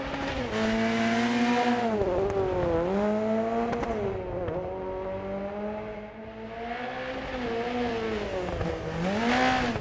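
Rally car engine in DiRT Rally 2.0 sliding on icy snow-covered Monte-Carlo stages, a loud steady rasping drone whose pitch dips and rises as it revs through the slides, with faint crackle, heard alone throughout.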